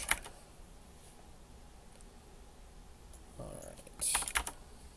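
Light clicking keystrokes on a computer keyboard in a quiet room, mostly faint, with a brief quick burst of louder taps near the end.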